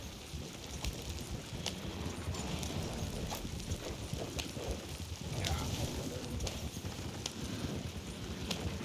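In a video game, a horse's hooves clip-clop steadily and continuously, with a wagon rumbling along beneath them and no talk over the sound.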